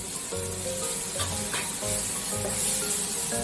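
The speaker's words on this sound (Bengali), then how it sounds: "এগুলো সব দিয়ে একটু ভালো করে ভেজে দিতে" Onions, mushrooms and mixed vegetables for pav bhaji fry in a pan, a continuous close sizzle broken by repeated scraping strokes of a spatula stirring.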